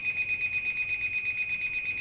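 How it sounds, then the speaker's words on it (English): A steady high-pitched electronic beep tone from an SJRC Z5 drone recording to its SD card, repeating in rapid even pulses, fairly faint and alone without any talking. "It goes beep, beep, beep as it's recording to the SD card."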